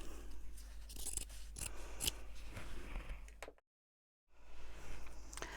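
Scissors cut out fabric letters close up, snipping in quick irregular clicks and rasping blade strokes, then a brief silent gap before the cutting resumes.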